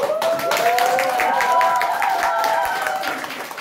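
Scattered audience clapping breaks out during a lecture by an OIC chairman, a patter of hand claps running beneath a man's ongoing speech.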